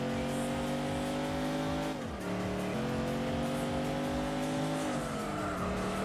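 Renault Clio race car in Gran Turismo 4 at the Nürburgring, a steady high-revving engine drone with a brief dip as it shifts or lifts, then climbing again, loud and continuous with other cars nearby.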